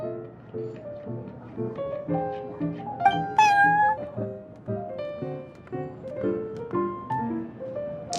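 Cat meowing in the Genshin Impact video game, at the Cat's Tail tavern, one short clear meow heard over a bright, plucked musical background that plays throughout.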